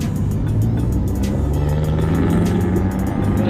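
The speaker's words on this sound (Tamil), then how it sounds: "கார் வருது கார் வருது" A car passes on a road in Kuwait, heard from a bicycle as a loud, steady engine and tyre rumble with wind buffeting throughout.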